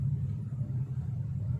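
A car idles and pulls away as the clutch is eased out during a driving lesson, a steady low engine rumble holding close and even throughout.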